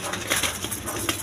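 A pair of black-and-white Rajgolla pigeons coo in a brief, hissy stretch, with soft repeated calls close by and no talking.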